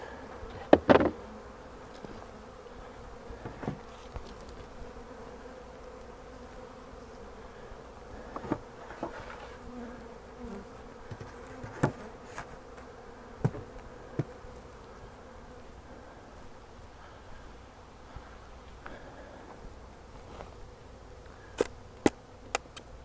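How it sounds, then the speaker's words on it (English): A continuous low hum of many honey bees buzzing around a double nuc hive, with occasional soft knocks and clicks over the drone. "Nice lot of bees."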